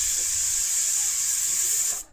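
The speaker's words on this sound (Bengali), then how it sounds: "এখন কুকারের ঢাকনাটা লাগাই দিলাম, আর 2-3টা সিটি দেওয়ার পরে গ্যাসটা অফ করে দিলাম।" Steady loud hiss of steam escaping from a pressure cooker whistle on a gas stove, continuous for about two seconds before cutting off abruptly.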